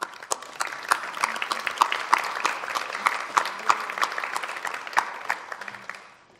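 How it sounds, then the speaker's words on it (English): A concert audience at a winter evening music show gives scattered, moderately sized applause with individual claps standing out distinctly, then fades quickly at the close. "Ça mérite des applaudissements."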